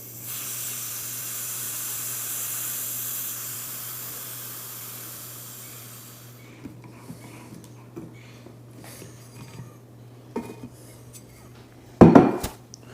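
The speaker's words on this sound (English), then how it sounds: "So I'm going to release the vacuum." Air hisses steadily into a vacuum chamber used for degassing lost-wax casting investment, a broad rushing sound that swells and then fades out after about six seconds, followed by scattered clinks and a sharp clatter near the end.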